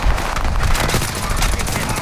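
Rapid automatic gunfire from a video game weapon, a dense fusillade of loud sharp shots fired in quick succession throughout, with faint voices underneath.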